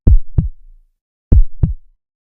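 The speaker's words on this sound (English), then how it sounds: "The heartbeat thundered." Two booming heartbeat thumps sound as a sound effect, each a deep lub-dub pair, loud and close, separated by a brief silence.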